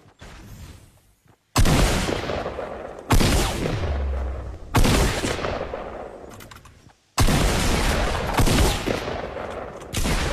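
Video game gunfire in a battle royale match: four loud, distinct bursts of heavy shooting, each cutting in abruptly and decaying over a second or two, separated by brief quieter gaps, with no talk.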